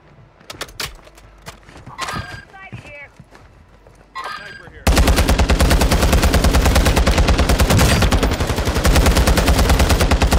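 Rapid, loud automatic gunfire from a video game fills the second half, preceded by scattered shots and brief game sounds with voices.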